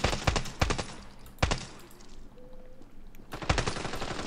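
Sharp, close gunshots from a Standoff 2 match come in clusters of rapid cracks, separated by brief quieter gaps, then a final volley. Almost no talk is heard.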